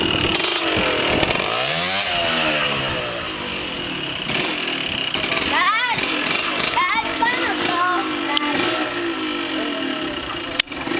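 A motorcycle engine cranks and sputters as someone tries to start it, a loud continuous mechanical drone with rising and falling revs throughout, heard close up with people talking over it.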